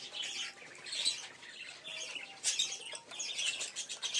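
Madrasi Giribaz pigeons at an evening feeding flutter and flap their wings in repeated bursts, mixed with soft chirps and coos, close by and fairly quiet, with no voices.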